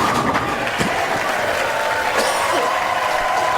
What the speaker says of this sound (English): And a big cheer from the crowd here at Allen Park.